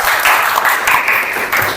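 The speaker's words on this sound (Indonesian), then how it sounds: "Tepuk tangan sekali lagi buat semua kelompok." A classroom of students applauds all the student groups with steady, dense clapping that continues throughout without pause.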